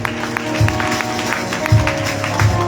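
Applause from a congregation at a Christian church service, a steady, moderately loud wash of clapping with louder bursts, and a voice faintly audible underneath.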